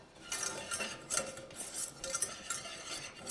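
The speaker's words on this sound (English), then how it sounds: "Stir it up" A vegan macaroni bake mixture stirred in a pot with a utensil, soft rhythmic scraping and light clinks against the pot, close but quiet, with no voices.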